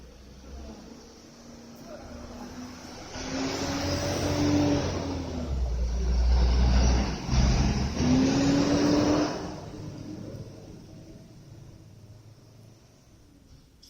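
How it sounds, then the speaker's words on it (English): A truck engine swells as the vehicle pulls away outdoors, a mid-pitched rumble building and revving for several seconds nearby, then fading into the distance. "Truck's just pulled away,"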